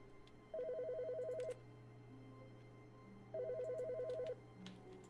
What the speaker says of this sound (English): Yeah, that's right. That's the phone.